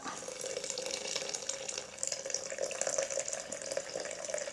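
Steady stream of hot water, about 175 degrees Fahrenheit, pouring onto yerba mate in a French press, a continuous bright splashing with slight gurgling changes as it fills.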